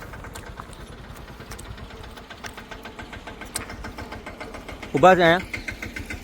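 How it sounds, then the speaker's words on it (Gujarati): A small tractor engine chugs steadily in rhythmic pulses as it passes nearby on a rural track near a dam, with a brief spoken voice breaking in near the end. "અહીંયા ટ્રેક્ટર જાય છે નાનું"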